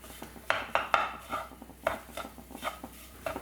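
A utensil mixes mashed potato with salt in a bowl for chicken cutlets, tapping and scraping against the vessel in a loose, irregular rhythm of close clinks and knocks.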